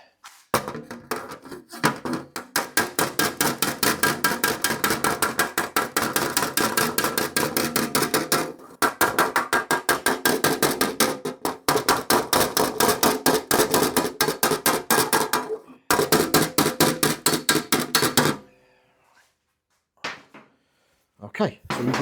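A hammer taps sheet metal to form a kit car panel in rapid, steady bursts of sharp metallic blows, pausing briefly between runs before falling quiet near the end.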